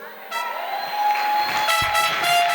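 Crowd applause and cheering fill a hall during a personal testimony given in French, a steady wash of many hands clapping with brief voiced cheers riding on top, fairly close and sustained throughout.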